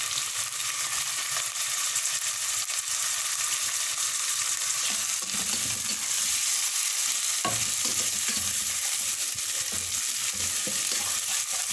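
Boiled mutton stir-fried in hot oil, a steady close sizzle and crackle running without a break, with occasional scrapes of stirring.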